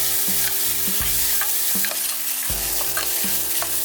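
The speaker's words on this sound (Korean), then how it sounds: "자 버터가 다 녹았으면 아까 썰어뒀던 양파를 넣어서 볶아줄게요" Chopped onions sautéing in melted butter in a single pan, a bright steady sizzle with spatula strokes stirring them around, over a low tonal music bed, no speech.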